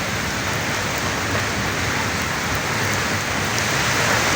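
Heavy rain pours steadily in a village, driven by strong wind, a dense continuous hiss of drops hitting surfaces that stays loud and unbroken throughout.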